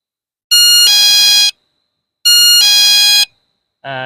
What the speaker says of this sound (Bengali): সামনে দিয়ে যাওয়া আসা করা মাত্রই অ্যালার্ম শুরু হয়ে যায়